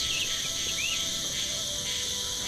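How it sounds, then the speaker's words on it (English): A cricket chirping inside a barrel in the video game The Night of the Rabbit, a steady high chirring that runs continuously and fairly loud over a faint ambient bed, with no talk. "I think I can hear a cricket chirping in the barrel."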